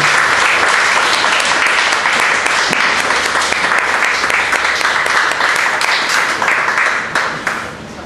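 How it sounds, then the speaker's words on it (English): Sustained audience applause at an evening heritage talk, a dense wash of many hands clapping steadily and loudly before fading out near the end. "Please give a warm round of applause."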